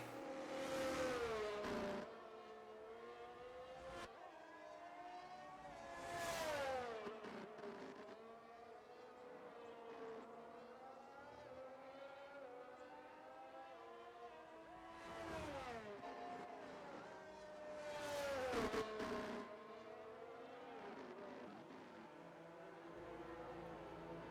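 A race car in a racing video game revs hard and repeatedly, engine pitch climbing and dropping through gear changes with several loud peaks over a steady drone, no talk.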